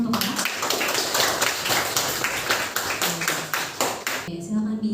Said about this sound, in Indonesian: Boleh berikan tepuk tangan untuk Kakak